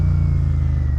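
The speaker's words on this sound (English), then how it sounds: "it sounds like a Harley Davidson" A Royal Enfield Super Meteor 650 motorcycle engine revs up close. Its loud, steady, deep throb runs for about a second, with no voices.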